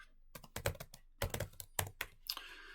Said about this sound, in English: So I'm going to start typing shopping.